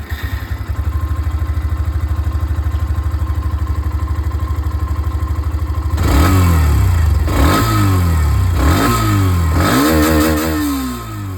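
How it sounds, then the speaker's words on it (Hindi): A Hero Xtreme 125R motorcycle engine idles with a steady, close thump, then gets revved several times, each throttle blip rising sharply and falling back before it settles. "अब मैं आप लोगों को यहाँ पर जो एक्सट्रीम 125R है इसकी जो आवाज़ है वो भी मैं आप लोगों को सुना दूँ"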